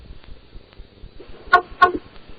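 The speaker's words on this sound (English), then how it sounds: "Let's listen to those honks." Two short car horn honks, about a quarter second apart, sound loudly over low traffic rumble.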